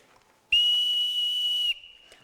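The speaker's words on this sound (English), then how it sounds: "Then Silver brought out a whistle." Long John Silver blows a whistle on a community theatre stage production of Treasure Island, one loud, shrill, sustained blast of a bit over a second, in an otherwise quiet space.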